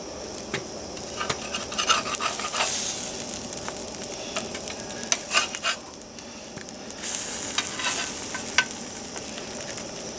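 Cinnamon French toast sizzles steadily on a hot griddle, a soft continuous frying hiss with scattered pops and occasional scraping of a spatula.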